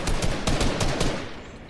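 Rapid automatic gunfire in the video game Fortnite during a duo match, a quick burst of loud, closely spaced shots that thins out toward the end, with no talking.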